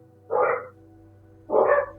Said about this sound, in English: You guys can hear the barks?